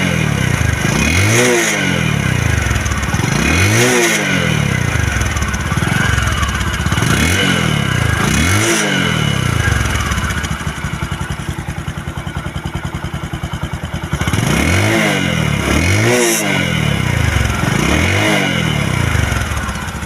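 A Bajaj Discover 125cc motorcycle engine revs repeatedly in strong, rhythmic bursts, each rise and fall clearly audible over a steady loud idle, close by.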